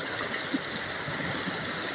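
Water pours down from above into a stream, a steady broadband rush filling the whole stretch at an even, moderate level with no talk.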